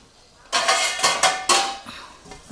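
A steel plate is set down over a sieve resting on a cooking pot while sabudana khichdi steams, giving several sharp metallic clanks and rattles in quick succession, close and loud.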